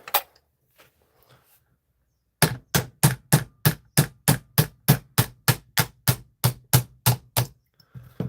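A hammer strikes about fifteen times in a fast, even rhythm, each blow sharp and close, after a few faint taps and a quiet pause.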